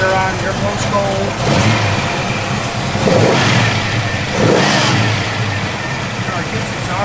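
A 1968 AMC AMX engine revs in a couple of rising pulls over a steady idle, fairly close and moderately loud, with no talking.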